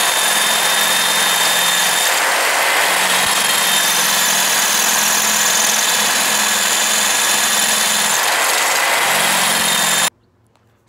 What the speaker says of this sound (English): the drill is definitely struggling with drilling those holes out